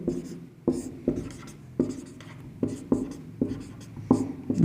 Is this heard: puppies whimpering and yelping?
no